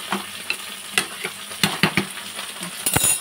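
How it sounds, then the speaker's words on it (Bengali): Okra sizzling as it fries in a pan on a home stove, with a spatula stirring and scraping in a steady rhythm of sharp clinks over a constant soft crackle, close by. "আর এটা ভাজা চলছে, ঢেঁড়সটা।"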